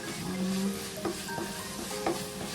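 Garam masala and fennel seeds are stirred into a Kerala-style chickpea curry in a pan, a low sizzle with a few distinct spoon scrapes and knocks against the pot.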